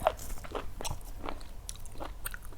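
Crisp, crunchy bites and chewing of fried crispy water-lettuce flowers in Thai food, about half a dozen close crackling crunches at an uneven pace, with no talk.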